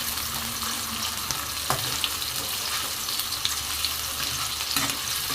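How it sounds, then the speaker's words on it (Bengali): Chopped onion frying in oil in a pan, a close, steady crackling sizzle that holds throughout with occasional faint stirring ticks and no talk. "পেঁয়াজটা আমি মিনিট খানেকের মতো ভেজে নিব"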